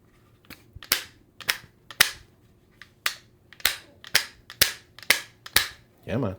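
Pistelle X-68 CO2 pistol fired through an MCS Reaper suppressor, about a dozen sharp snapping cracks in a fairly quick, uneven rhythm, close and loud with short decays.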